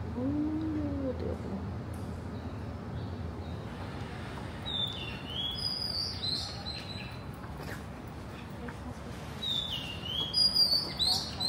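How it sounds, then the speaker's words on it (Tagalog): Birds chirp in Bangkok, Thailand, giving faint, scattered high tweets over a steady low background hum of the city. "Uy, may birds!"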